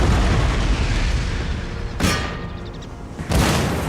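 Artillery in Total War Empire fires in a heavy rumbling barrage, with two sharper booming shots cutting through the dense, continuous roar of cannon fire.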